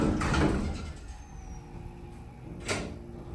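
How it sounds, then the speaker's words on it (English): A GAL hydraulic elevator door at Central Market in Houston slides along its track, with a rough, scraping rumble that is loud at first and then settles, followed by a brief clunk near the end. "I mean, the door sounds extremely rough."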